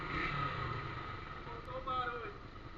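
Motorcycle exhaust rumbling and revving nearby, a steady engine drone with a brief rise in revs partway through, heard alongside background voices.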